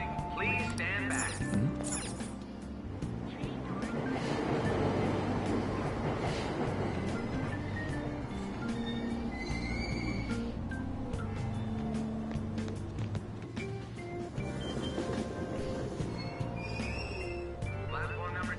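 Subway train departing a station in the video game Persona 5 Royal, a continuous rumbling rush of wheels and motor that builds and rolls on, with a station announcement voice speaking over it.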